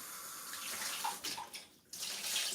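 Tap water runs steadily over tomatoes being rinsed in a kitchen sink, a broad splashing hiss that briefly dips and then resumes, with no talking.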